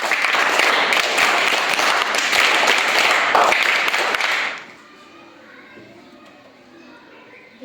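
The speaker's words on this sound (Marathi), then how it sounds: "समीक्षासाठी परत एकदा टाळ्या वाजवायच्या आहे" Children clap for a student at a quiz in a Zilla Parishad primary school in Ronzane. Close, lively applause lasts about four and a half seconds, then stops abruptly, leaving a quiet room.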